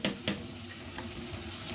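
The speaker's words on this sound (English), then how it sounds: "it's only the oil that is frying." Onion frying in oil in a pan, a soft steady sizzle with a couple of sharp clinks of a utensil near the start, quiet and close.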